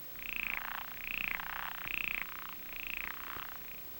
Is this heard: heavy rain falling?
no